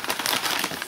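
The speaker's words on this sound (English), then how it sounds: "First things first, open this envelope." A paper envelope is torn open in a quick, close crinkling rustle lasting under a second.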